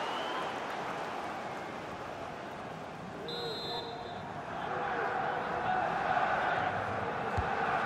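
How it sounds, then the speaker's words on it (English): Stadium crowd in the EA FC 24 football video game roars and cheers as a match builds toward a chance to equalise, a steady wash of noise that swells louder partway through, with faint voices in the mix. "Well, just listen to the crowd."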